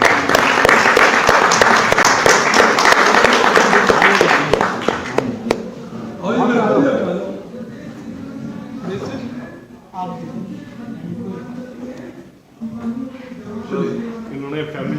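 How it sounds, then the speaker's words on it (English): An audience at an Institute of Cost Accountants of India event gives a loud round of applause lasting about five seconds, then someone talks over a quieter room. "A round of applause everyone."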